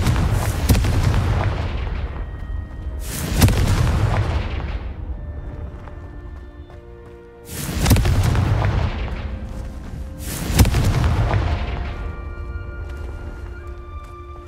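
Four heavy booming fire-blast impacts from the Confringo spell in the video game Hogwarts Legacy, each a loud, close explosive crack followed by a long rumbling decay, spaced a few seconds apart with no talking.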